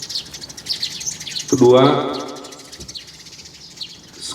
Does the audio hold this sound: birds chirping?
yes